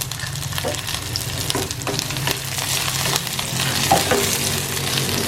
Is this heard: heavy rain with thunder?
no